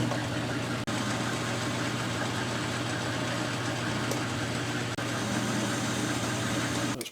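A metal lathe taking a cut with the cross slide on power feed, a steady continuous machine hum and low motor drone with faint grinding texture, unbroken for several seconds apart from a couple of tiny clicks, no speech.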